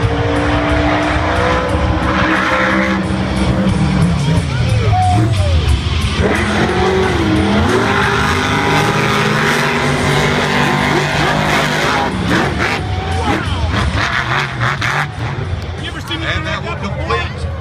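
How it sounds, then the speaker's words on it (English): Monster Jam World Finals 2014 practice laps for the monster trucks Monster Mutt Rottweiler and Captain's Curse: loud engines roar and rev with tire noise and a crowd murmuring, while an announcer talks over the action throughout. "that will complete the three-race practice lap for Monster Mutt Rottweiler and Captain's Curse"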